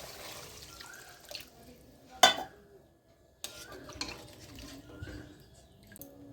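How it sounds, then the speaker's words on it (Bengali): Water splashes into a pan of cooked-down masala for a Bengali katla fish curry. A sharp clatter is followed by a steady, close, moderately loud pour and sizzle that runs to the end, with no talking. "এখন আমি জল দিয়ে দিচ্ছি"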